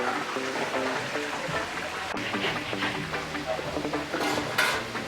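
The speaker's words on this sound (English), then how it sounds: "It's just a big pot of oil that they're putting them back into to bathe with all that flavor" Seasoned lobsters sizzle in a big pot of hot oil at a beach seafood village in Hellshire, Jamaica, a dense bubbling fry with clinks of cookware and a faint voice in the background.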